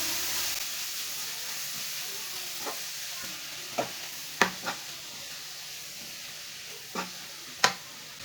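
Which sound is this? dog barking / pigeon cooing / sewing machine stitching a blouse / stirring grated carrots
stirring grated carrots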